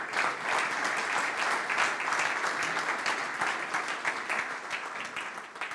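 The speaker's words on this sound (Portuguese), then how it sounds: "Peço agora um aplauso para todos os projetos." An audience at an award ceremony applauds all the projects, a dense, steady wash of many hands clapping that holds evenly throughout, fairly near and full.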